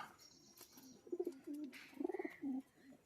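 Racing pigeons back in their loft on a foggy morning after a 10 km toss, giving several soft, close throaty coos in short rolling bursts over faint background ambience.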